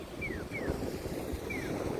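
Strong wind buffeting a rider on a motorcycle on the road in Japan: continuous rushing, rumbling wind noise with low gusty thumps, plus a few faint descending chirps in the background.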